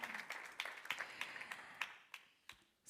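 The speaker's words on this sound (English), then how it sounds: "Let's applaud Juan Entrecanales and Charles Adiakpa" Scattered, sparse audience clapping at a foundation's annual general meeting, quick separate claps that fade away over a few seconds, fairly faint.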